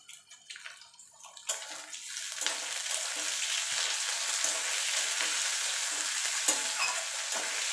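Prawns frying in a pan with taro leaf paste give a steady close sizzle with stirring scrapes, starting quietly and then holding an even crackle to the end.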